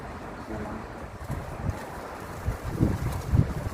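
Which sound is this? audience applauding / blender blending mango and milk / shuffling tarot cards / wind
wind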